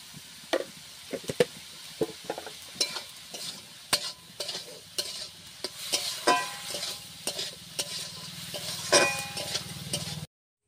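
Snails being fried with onions and spice paste in a pan, a soft steady sizzle under repeated sharp scrapes and clinks of a spatula stirring against the metal, close up with no talking.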